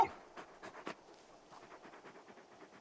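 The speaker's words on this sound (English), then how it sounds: "You're just a big puppy, aren't you? A very big puppy." Torgal, the wolfhound companion in Final Fantasy 16, pants and eats close by in quick, soft, rhythmic bursts. The breaths and chewing are gentle and fairly quiet, and no one speaks over them.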